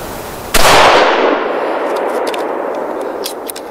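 A single loud close-range rifle shot from a HEYM-built Ruger No. 1 single-shot rifle, its sharp crack followed by a long rolling echo that fades slowly over a few seconds outdoors.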